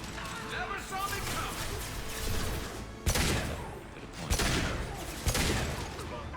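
Rifle fire from the video game Mass Effect 2 cracks out in a few heavy, sharp reports amid ongoing combat noise, while someone talks throughout.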